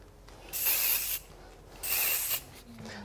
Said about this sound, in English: Then you can just go in and make it larger by using the texture spray